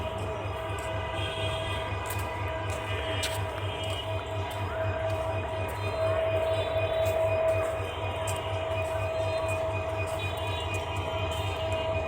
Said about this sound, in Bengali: তেল বহনকারী ট্রেন একটা দাঁড়িয়ে আছে